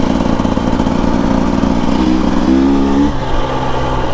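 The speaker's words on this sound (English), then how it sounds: "you can hear how that's got that real deep burble at the bottom" A 2025 Husqvarna TE 300 Heritage motorcycle engine runs close and loud with a deep, steady burble, its low throb rising briefly in pitch before settling back.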